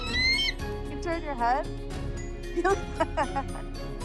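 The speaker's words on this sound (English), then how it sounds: "A bald eagle actually sounds like this." A bald eagle gives thin, high piping chirps in several quick bursts with short pauses between them, while a nearby voice speaks briefly over the calls.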